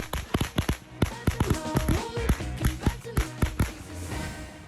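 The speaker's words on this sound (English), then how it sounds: "with firecrackers, it's a heck of a lot of fun." A rapid string of sharp firecracker pops crackles in uneven bursts, loud and close, with brief pauses between clusters.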